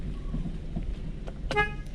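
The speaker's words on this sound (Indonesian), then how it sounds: "Klakson masih aktif." A short car horn beep from a 2010 Suzuki Swift ST automatic sounds once near the end, over a low rumbling background with a faint earlier tone.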